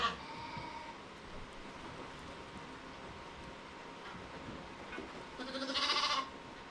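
Sheep raised for wool bleat on a summer farm, with a single drawn-out call rising near the end over a steady outdoor background hum.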